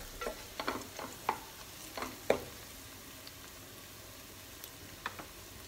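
Onions and mace frying in oil for prawn dum biryani make a soft, quiet crackle, with a cluster of light taps and scrapes in the first half before it settles into a faint sizzle.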